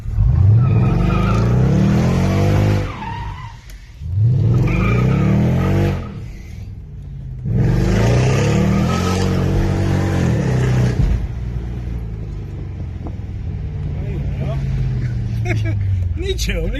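A supercharged Mercedes CLS55 AMG being driven, its engine droning loudly and rising in pitch through repeated accelerations with brief drops between gear changes, heard from inside the car.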